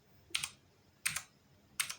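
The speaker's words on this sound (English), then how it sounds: "I'm sitting here fucking typing in the password like," Three separate bursts of computer keyboard keystrokes, each a quick cluster of clicks, as a password is typed at close range in a quiet room with no talking.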